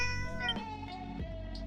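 A cat in the video game Dragon Quest VII gives two short meows over a sustained musical backdrop, clear and close, with no speech.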